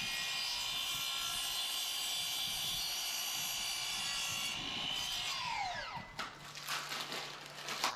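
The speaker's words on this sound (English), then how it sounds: "First measure and mark how long they should be and shorten them with the miter saw." A miter saw cuts wooden skirting boards with a high whining motor and a steady rasping bite through the wood, then the blade spins down with a falling pitch and the clip ends on quieter handling clatter.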